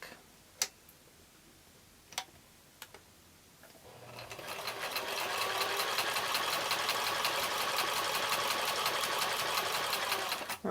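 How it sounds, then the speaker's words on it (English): Sewing machine stitching quilt blocks for a nine-patch, starting after a few faint clicks and then running in a fast, steady, close mechanical chatter for several seconds. "Let's take the sewing machine"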